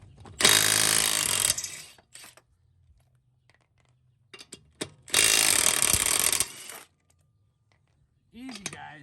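A small stubby impact wrench knocks the front brake bolts loose on a Kia Soul in two loud, sustained rattling bursts separated by quieter gaps, with a voice talking between them.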